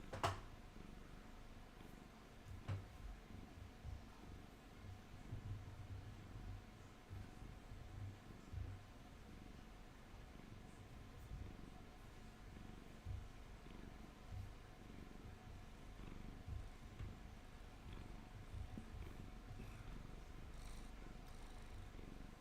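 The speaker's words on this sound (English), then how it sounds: "Y'all can probably hear him purring through the mic." A pet cat purrs close to a microphone as a faint, low, steady rumble that continues unbroken for over twenty seconds, with a few small clicks and no talking.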